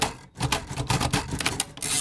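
Braille writers clatter loudly at a Braille competition, a dense run of sharp mechanical keystrokes like old typewriters, close and busy with brief gaps.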